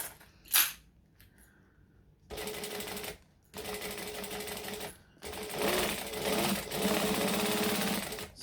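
Sewing machine chain sewing fabric, several bursts of fast, steady mechanical stitching with brief pauses between, close and clear, preceded by a sharp click.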